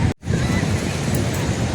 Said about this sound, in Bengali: সমুদ্রের পাড় দিয়ে ঘুরছি